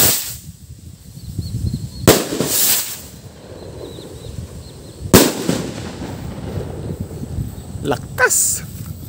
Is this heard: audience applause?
no